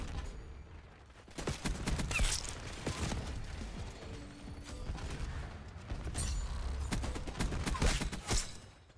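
Rapid bursts from a Tanto .22 SMG in Black Ops 6, with repeated clattering volleys of shots and mechanical clicks between them, fairly close and moderately loud, with no talking.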